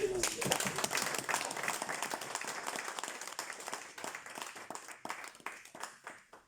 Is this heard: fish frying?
no